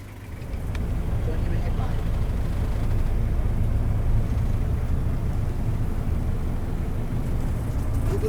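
An old passenger van riding over a bumpy road in Thailand, a continuous low engine and road rumble inside the cabin, steady and moderately loud after a quieter opening second.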